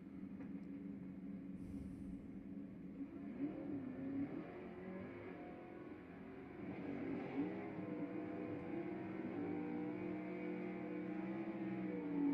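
A Stock Eliminator drag race car at an NHRA event at Houston Raceway Park launches off the starting line with a slight stumble, its engine a steady, loud, rumbling drone throughout with no talk over it.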